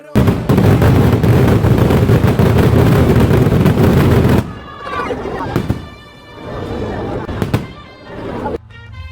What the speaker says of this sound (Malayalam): ഇന്നാണ് നമ്മുടെ പള്ളിയിൽ വെടിക്കെട്ട്